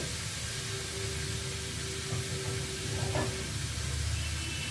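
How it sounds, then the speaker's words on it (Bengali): Soybean curry sizzles and hisses steadily in a pan as it is sautéed, a continuous close frying sound with faint scraping at moments. "একটু ভালো করে কষিয়ে নেব।"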